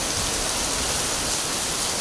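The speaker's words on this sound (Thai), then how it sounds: "ดูฮะ ฝนตก ดูลมนะฮะ ดูลม" Heavy rain and strong wind sweep through Pattaya during a storm, a dense, loud, unbroken hiss of rainfall and gusting air filling every moment without any break.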